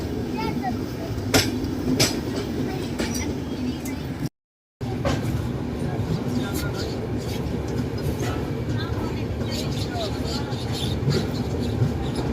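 A New Delhi–Barauni express train runs on the rails with a steady, loud rumble and rhythmic clatter throughout, broken by one brief dropout, with occasional sharper knocks and squeals.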